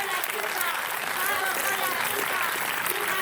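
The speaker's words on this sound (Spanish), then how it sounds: "Fuerte el aplauso para Georgina Orellano y Liliana Viola" Audience applause at a talk during the third Flores book fair, a steady wash of clapping from a crowd that stays dense and even throughout, with murmurs mixed in.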